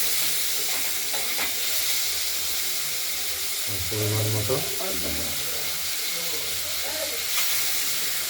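Potatoes frying in oil with salt added for a paneer curry with tomato, a steady hiss and sizzle under a voice talking throughout, with a few clinks of stirring.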